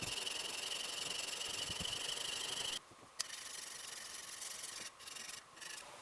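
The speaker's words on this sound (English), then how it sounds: "I'm going to use my 400 grit diamond stone." The new iron from a Vaughan and Bushnell 804 hand plane is rubbed back and forth on a 400 grit diamond stone, giving a steady, close abrasive scraping broken by brief pauses.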